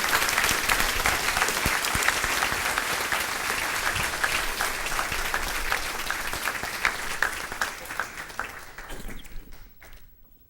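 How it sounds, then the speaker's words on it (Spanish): A church congregation applauds in a long, dense burst of clapping that stays loud for most of its length, then thins out and dies away over the last couple of seconds. "¿Por qué no le damos un fuerte aplauso a Dios por ese perdón que Él nos da, mis amados hermanos?"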